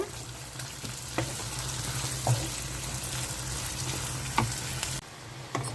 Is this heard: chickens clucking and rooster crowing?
no